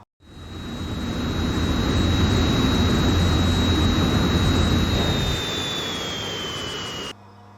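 An F-84 jet engine roars in the IL-2 Korea combat flight game, a loud, steady close whine and rumble that holds for several seconds, then sinks slightly in pitch and cuts off abruptly.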